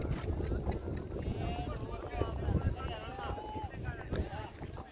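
Race horses warming up before a rural Kutch horse race give soft, fairly distant hoofbeats in an uneven clip-clop, beneath people talking and open-air background noise.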